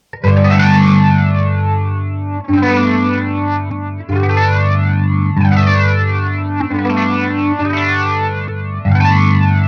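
Sustained electric guitar chords swirl through a heavy modulation effect with color maxed, a sweeping, wavering tone with slight distortion, strummed a few times in a row.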